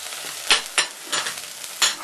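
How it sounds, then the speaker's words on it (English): Ginger, garlic and ground cumin are stir-fried in a hot pan for a spiced pumpkin soup, giving a steady sizzle broken by four or five sharp scraping bursts as the spoon moves them around, close and without talk. "and just stir fry that"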